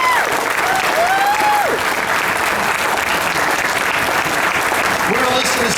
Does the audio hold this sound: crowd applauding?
yes